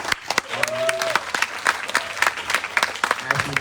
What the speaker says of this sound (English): I want to ask for a big round of applause for our esteemed panel